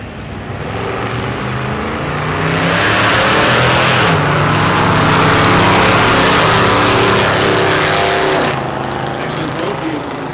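Drag race cars make a pass down the strip at Texas Motorplex in Ennis, Texas, with loud engine roar that swells, peaks and then fades as they run, while an announcer talks over it.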